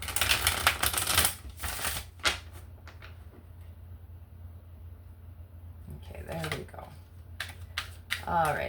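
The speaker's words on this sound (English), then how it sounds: "All right, I'll do one more shuffle." Oracle cards being shuffled by hand, with bursts of crisp riffling and flicking near the start and again toward the end, separated by a quieter stretch with low background hum.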